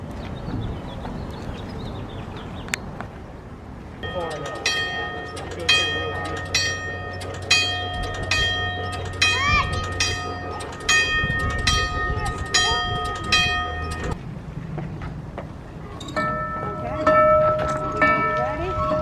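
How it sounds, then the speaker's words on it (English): A locomotive bell on a train at a turntable rings repeatedly in a steady, bright clanging rhythm over a low engine rumble, pausing briefly before resuming nearby. "Hey Mike, come on up here and ring the bell for us."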